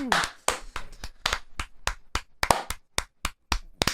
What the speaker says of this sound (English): Slow clap, hell yeah.